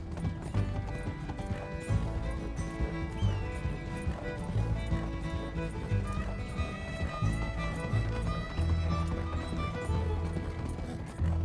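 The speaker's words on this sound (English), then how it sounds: "This useless horse." A horse gallops in Red Dead Redemption 2, its rapid hoofbeats drumming steadily under a layer of game music and ambience, moderately loud throughout.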